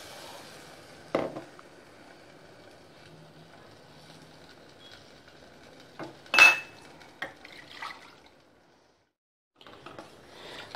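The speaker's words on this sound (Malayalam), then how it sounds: "നന്നായിട്ട് കൈ എടുക്കാതെ ഇളക്കി കൊടുക്കണം, അല്ലെങ്കിൽ റവ കട്ട കെട്ടിപ്പോവും." A spoon stirring semolina and cashew paste in a metal pot for rava payasam, giving sparse scraping strokes and a few sharp metallic knocks against the rim amid quiet gaps; no talk.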